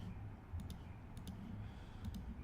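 Mouse clicks come in three quick paired bursts, short and sharp over a low steady hum, while a window is selected in a 3D editor; no one talks.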